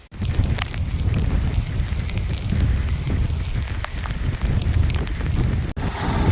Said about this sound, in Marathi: पण आता जातानाच पाऊस लागला.